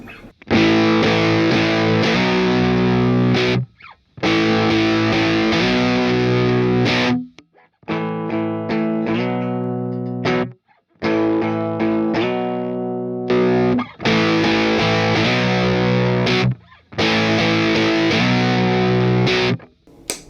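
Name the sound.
overdriven electric baritone guitar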